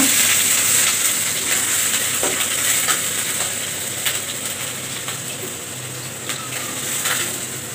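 Onion and garlic paste frying in about two tablespoons of hot oil for a coconut shrimp curry, a loud crackling sizzle with scattered spatters and stirring scrapes, easing slightly over time, no talk.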